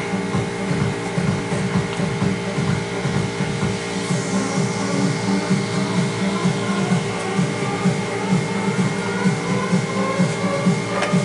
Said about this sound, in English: wait for my compressor to finish